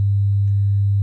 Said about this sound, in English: So I can turn on a tone,